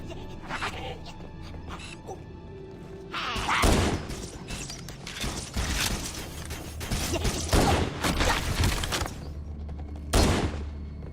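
Pistol fire against Covenant grunts in Halo Anniversary, Legendary mission The Silent Cartographer: a series of sharp, loud shots in irregular bursts over busy game noise, with a quieter stretch at the start.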